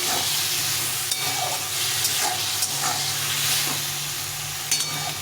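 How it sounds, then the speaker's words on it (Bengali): Masala sautéing in a pan for a potato and pointed gourd curry, a steady close sizzle and hiss with occasional soft stirring scrapes throughout, no voices. "এই মশলাটা দিয়ে দেবো এটাকে ভালো করে একটু কষিয়ে নিতে হবে"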